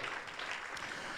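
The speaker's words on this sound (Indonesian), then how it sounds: "Kasih tepuk tangan yang paling meriah buat Tuhan Yesus." Church congregation applauding during a worship service, a brief, faint spell of steady clapping heard from a distance, with no talking over it.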